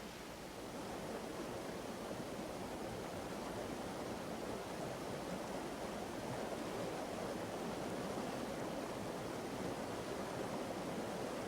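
Waterfalls pour down the outer slopes of a volcano, a steady, dense rush of falling water that holds constant and fairly strong throughout, with no voices.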